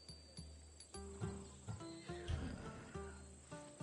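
A horse whinnies repeatedly in Assassin's Creed Odyssey, a Thessalonian-bred mount, its neighs rising and falling in several close, loud bursts amid soft hoof clip-clops and ambient game sound.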